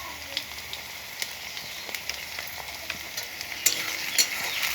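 Potatoes fry with turmeric in a hot pan, giving a steady sizzle and hiss broken by scraping stirs that grow busier and louder toward the end.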